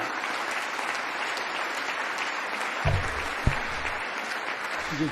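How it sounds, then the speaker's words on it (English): A crowd at a press conference applauds and cheers in a steady, dense wash of clapping heard from a distance on television, with a couple of brief low thumps partway through. "there is just so much cheering"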